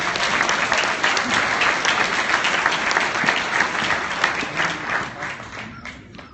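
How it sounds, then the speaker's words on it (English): Sustained audience applause fills a community awards ceremony held by a local chamber of commerce, steady and dense with many hands clapping, then tapering slightly at the end. "Give them a round of applause."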